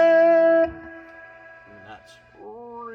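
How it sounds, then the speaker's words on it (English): Electric guitar played through a Pignose G60RV amp with distortion: a loud sustained distorted chord that cuts off, then quieter ringing notes and a short bent phrase, heard close and alone. "Get a little distortion going here."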